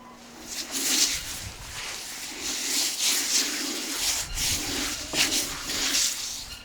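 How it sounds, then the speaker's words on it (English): Salt is rubbed by hand over a whole lamb, inside and out, giving a steady soft scrubbing and crackling texture close by, continuous and fairly quiet. "let's give this lamb a generous rub down with salt,"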